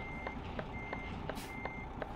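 Evenly spaced reversing beeps from a truck backing up in Euro Truck Simulator 2, about seven short tones repeating steadily over a constant engine rumble.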